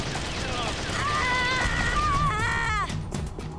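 Gunfire in the video game Metal Gear Solid: The Twin Snakes, a dense burst of shots under game music and whistling tones, with a voice talking over it.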